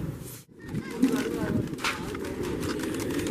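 A flock of racing pigeons is released and takes flight in a loft competition, giving a busy flurry of wingbeats and movement with a brief dropout near the start, while people talk in the background.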